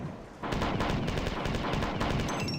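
Rapid assault rifle fire from the Marathon Infinity video game starts abruptly after a brief quiet moment, then runs as a loud, steady stream of closely spaced shots to the end.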